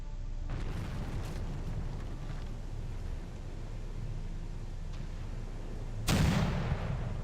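Heavy naval guns of a warship firing in the Pacific naval battle game Victory at Sea Pacific, a low rumbling barrage that continues throughout, with one loud close boom near the end.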